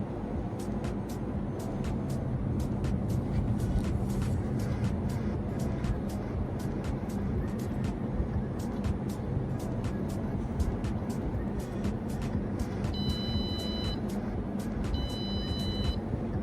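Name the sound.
electronic buzzer buzzing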